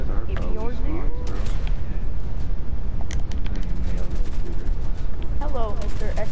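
Gunfire in a competitive first-person shooter match, with repeated sharp shots crackling over near-constant team voice chat; voices talk throughout, with fast bursts scattered across the clip.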